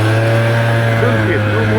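Yamaha Neos scooter engine running with a rev limiter fitted, a steady loud drone with strong low harmonics and slight pitch wobble, continuous and close throughout.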